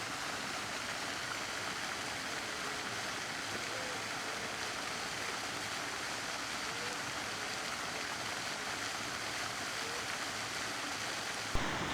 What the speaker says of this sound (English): looking over the pond with the waterfall